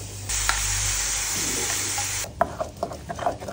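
Onion and garlic sizzle in a little oil in a frying pan, a loud hissing burst at first that drops into softer scraping and stirring clatter near the end, with no talking.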